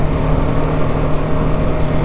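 A BMW G310R, a 310cc motorcycle, with its engine revved and held high in a loud, steady, close-up drone with no speech over it.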